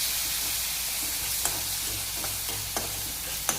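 Mustard seeds, cumin, green chili and garlic frying in hot tempering oil, a loud continuous sizzle with a few sharp pops and crackles.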